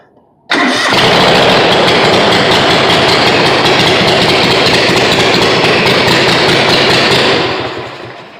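A project vehicle's engine with a cut exhaust fires up abruptly and runs loud and close, a steady heavy rumble that holds for several seconds before tapering off at the end.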